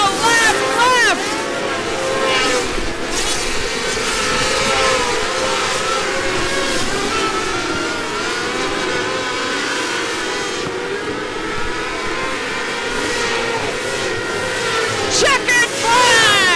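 Sprint cars racing on the final lap of a feature event, engines screaming and revving continuously as cars sweep past, with an announcer talking over the roar.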